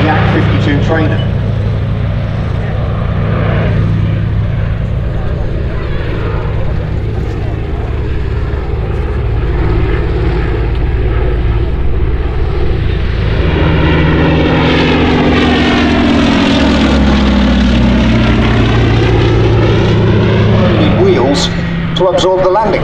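Vintage radial-engine aircraft flying at an air show, its loud, steady propeller drone rising and falling with a pronounced Doppler sweep as it passes close by, under continuous commentary over a public address.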